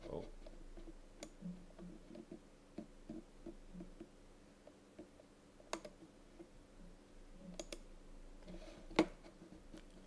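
Computer keyboard keys being tapped during a Linux install, with sparse, quiet, irregular clicks and a few sharper keystrokes over a low room hum, close by and without speech.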